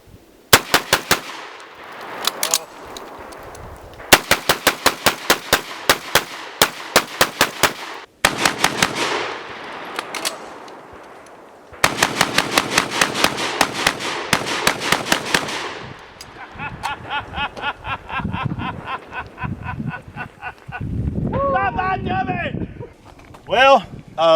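A Rock Island Armory VR80 shotgun fires high velocity loads in rapid strings of sharp, loud blasts with brief pauses between volleys, followed by ringing echoes and people talking near the end.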